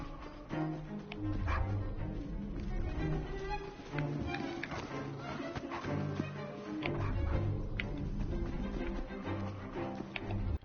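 A dog barks and yips repeatedly in short, irregular bursts alongside whimpers, fairly close, over a busy background with a trace of voices.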